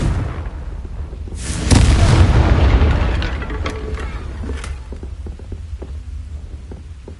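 A Confringo spell explosion from the video game Hogwarts Legacy hits as one loud, deep burst that swells and then slowly fades into a low rumble, followed by a few faint clicks.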